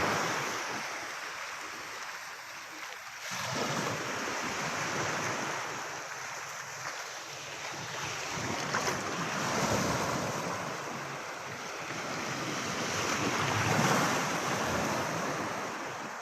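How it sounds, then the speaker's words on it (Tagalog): Sea waves roll in and break on the shore in slow surges, each swell of surf rising and fading, with wind buffeting the microphone throughout and no voices. "ang dagat"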